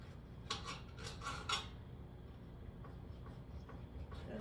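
Serrated knife sawing through a zucchini wrap on a kitchen board, a quick burst of several close, crisp scraping strokes followed by quieter faint rustling.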